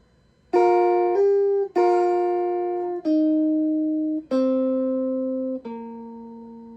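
A clean electric guitar plays a short pentatonic riff of six sustained, separate notes, each ringing out before the next, close and clear with no talking.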